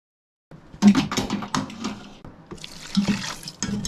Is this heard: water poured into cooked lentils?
yes